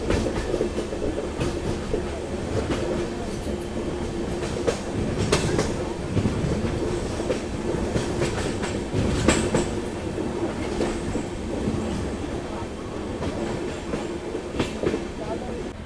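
Poorna Express running on the rails between Pune and Goa, a steady loud rumble with rhythmic clickety-clack of wheels and occasional metallic squeals and jolts throughout.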